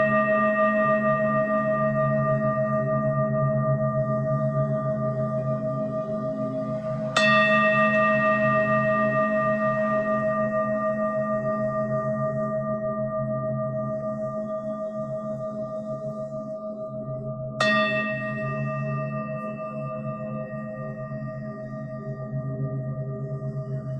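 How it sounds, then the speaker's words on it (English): Meditation bells struck twice during a mindfulness session, each sharp onset followed by a long, fading ring of sustained tones, sounding close and clear over a quiet background with no voices. "coming back to the sound of the bells"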